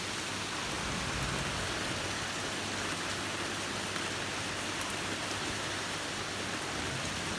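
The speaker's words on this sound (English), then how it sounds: "there's absolutely no sign of the rain stopping" Torrential rain pours down at night in gale-force wind, a dense, even roar of hissing downpour that stays steady and loud throughout without pause.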